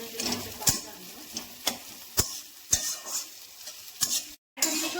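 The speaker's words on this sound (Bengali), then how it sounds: "এই মশলাটা একটু ভালো করে ভাজতে হবে" Spice paste fries in oil in a pan with a constant hiss and sizzle, broken by regular sharp taps and clicks of a spoon stirring against the pan, close by.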